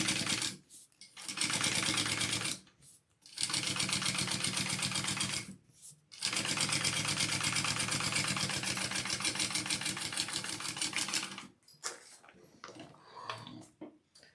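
A sewing machine top stitches a bag, running close and loud in long continuous buzzing stretches with brief pauses between runs, then tapering off into a few short bursts.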